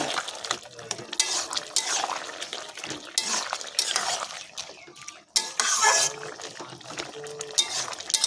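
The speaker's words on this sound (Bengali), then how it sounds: "চিংড়ি মাছগুলো দিয়ে আবার একটু ভালো করে নাড়াচাড়া করে দেবো" Fried prawns being stirred in a pan for a Bengali melon-and-prawn curry, with scraping spatula strokes, clinks of utensil on metal and a wet sizzle that rise and fall in irregular bursts, close by.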